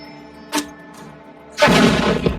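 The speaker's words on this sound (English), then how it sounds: "say you've got a grenade launcher" Grenade launcher one-shot sound effect in Syrinscape: a sharp thump, then a short pause and a loud, broad blast that rings on, heard over a quiet humming background.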